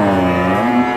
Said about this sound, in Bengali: এটাই কিন্তু জার্সি ব্রিডের একটা গাভী,